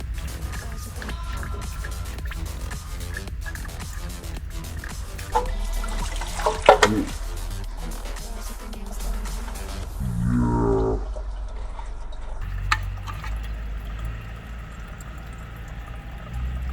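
Coolant pours from one tank into another while a VW/Audi coolant tank is installed in a garage: faint, trickling liquid with a gurgling splash in the middle, over quiet workshop noise.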